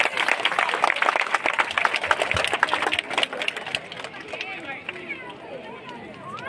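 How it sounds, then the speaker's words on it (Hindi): An audience claps loudly for a children's kindergarten dance group at a school event, dense rattling applause that fades toward the end while someone speaks over it. "इन्हीं नन्हे मुन्ने बच्चों के लिए एक बार जोरदार तालियां हो जाए"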